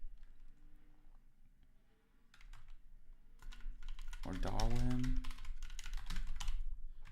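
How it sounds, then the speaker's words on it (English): Computer keyboard typing during a live programming session building an HTTP server in Odin, rapid clicking keystrokes in bursts running under a man's speech, close and moderately loud. "So used to typing."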